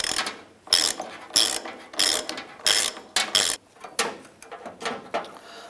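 A ratchet wrench clicks through a series of short bursts, tightening a washer on the tailgate cable of a 2004–2012 Chevrolet Colorado pickup; the close, sharp ratcheting comes in about eight strokes with brief pauses between, and no one talks.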